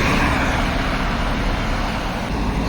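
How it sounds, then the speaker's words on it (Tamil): Traffic on a busy highway on the Thiruvannamalai–Chennai road makes a continuous, loud roadside roar of passing cars and heavier vehicles, with no break in the noise. "ஸோ ரோடு பாருங்கள், நல்ல ஒரு பிஸியான ஹைவே தாங்க. உங்களுக்கு இப்போ டிராஃபிக் பார்த்தாவே தெரியும்"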